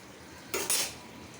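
A brief metallic clatter as a lid is set onto a cooking pot of puti fish with spinach, two quick close scrapes and clinks, then quiet.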